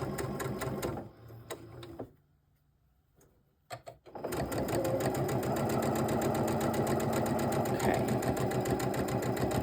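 A sewing machine stitches quilt pieces together in a loud, steady run. It is broken by a short near-silent pause with a brief voice before stitching resumes continuously close to the microphone.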